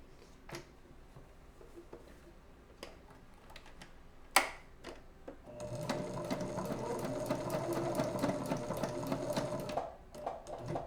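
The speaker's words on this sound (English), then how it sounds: "I'm sewing this together for him." A sewing machine stitches together a pair of Amazing Spider-Man costume gloves, starting after a few quiet handling noises and running as a steady close rapid whir for about four seconds before stopping.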